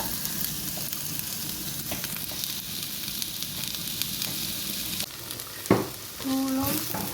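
Okra sautés in a pan with a continuous close sizzle and crackle. Near the end comes a brief clatter of stirring, and then a short tonal sound.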